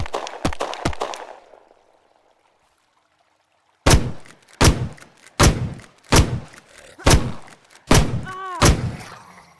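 Gunfire in the Will to Live video game, with a quick cluster of sharp shots followed by a quiet gap, then a steady run of about eight loud, heavy booming reports spaced under a second apart, each ending in a short rumbling tail.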